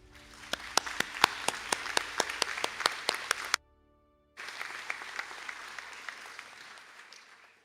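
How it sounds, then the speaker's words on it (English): Audience applause at a college conferring ceremony in Sligo for a Master of Science graduate: steady clapping from many hands, a sudden silent gap of under a second, then the applause resumes more densely and keeps going. "I ask the graduate of the Master of Science in Quality to stand for a round of applause."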